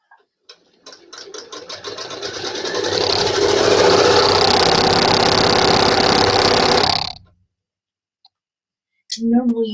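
A sewing machine stitching a quilt block, starting with a few slow clicks, then speeding into a loud, steady close-up whir for several seconds before stopping abruptly, followed by a brief spoken voice.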